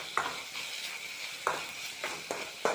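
Fried rice with coriander leaves stir-fried in a pan at home, a soft continuous sizzle broken by sharp, irregular scraping strokes of the spatula against the metal, close up, with no voices.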